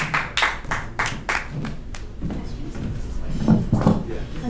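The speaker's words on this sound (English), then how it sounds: "Please give her a big round of applause." A comedy club audience claps for a stand-up comedian taking the stage, a sparse scatter of distinct hand claps at first, then fading under a voice and a few cheers.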